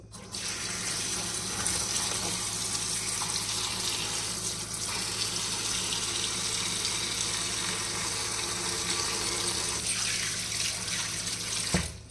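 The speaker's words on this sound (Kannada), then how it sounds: "ಇದನ್ನು ನೀರಲ್ಲಿ ತೊಳ್ಕೊಂಡು ಬಿಡೋಣ ಒಂದ್ಸಲ" Peanuts are washed under a running tap, a steady close gush of water into a sink that flows continuously with little change, with no voices over it.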